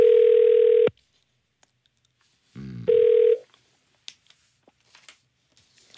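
A telephone line gives a loud, steady tone twice as a listener's call is connected on a radio show, followed by quiet handling clicks.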